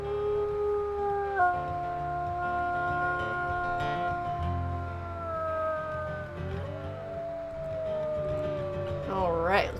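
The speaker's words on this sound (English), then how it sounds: "So maybe do a little howl back." A wolf in the video game WolfQuest: Dragon Pack lets out long, gliding howls that rise and fall across the whole stretch, loud and close over a low background rumble.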